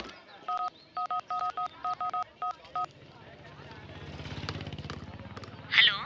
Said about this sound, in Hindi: एक और फोन करता हूँ।